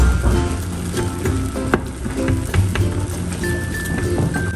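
White onion frying in Star margarine, giving a steady, close crackling sizzle throughout with small pops and light stirring clinks and no voices.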